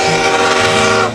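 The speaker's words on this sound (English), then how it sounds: "The train actually bypasses the train station and runs right into the center of town." Durango to Silverton train running close and loud, a steady tonal blast like a horn or whistle layered over heavy rail rumble, with no voices.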